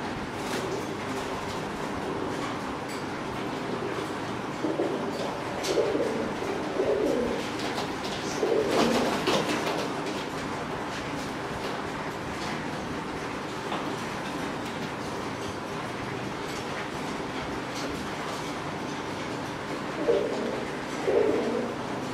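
Cream-eyed high flyer pigeons, an old breed pair, coo in low soft bursts at intervals over a steady background hiss, fairly close, with no talk.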